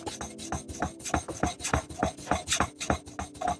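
A chisel blade is rubbed back and forth across a sharpening stone in steady rhythmic strokes, each a close gritty rasp, about a dozen passes with no talk.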